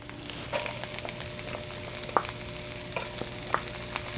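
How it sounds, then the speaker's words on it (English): Onion and garlic sautéing in a pan for beef kaldereta, a soft steady sizzle with a few light stirring knocks and scrapes spaced through it, close and fairly quiet with no talking. "we're gonna saute our onion and our garlic"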